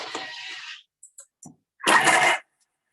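A kitchen food processor set to speed 7 chops food in loud, close whirring bursts, one lasting under a second and a stronger one near the end, with short quiet gaps and small clicks between them.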